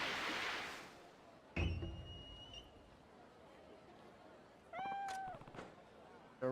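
Cat meows in the video game Like a Dragon: Ishin, two distinct wavering cries a few seconds apart, each clear and fairly close, set against quiet ambient noise with brief thumps.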